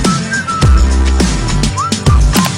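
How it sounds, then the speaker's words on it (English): A person whistles a few short gliding notes, clear and close, over a rhythmic thumping backing beat. "I just whistled at her."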